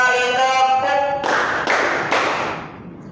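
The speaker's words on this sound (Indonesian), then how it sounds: "1 kali tepuk, 2 kali tepuk, 3 kali tepuk" A group of students in a classroom clapping in counted bursts, first under a sustained sung or chanted tone, then three distinct loud claps spaced about half a second apart before fading.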